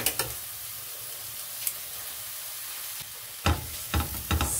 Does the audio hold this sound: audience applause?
no